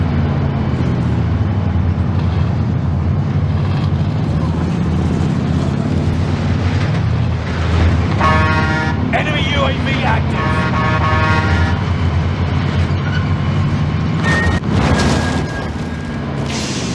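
A vehicle in Call of Duty Warzone drives with a steady loud engine drone and road rumble throughout, while a voice talks over it, a horn-like tone rises midway and bright electronic game beeps come near the end.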